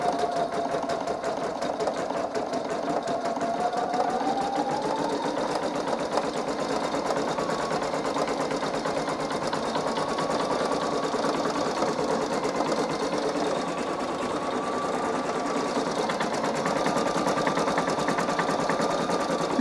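A Singer EM9305 embroidery sewing machine runs long stitches in a steady, continuous mechanical whir with rapid needle chatter. It sounds close and fairly loud, with a gently shifting pitch as it slows.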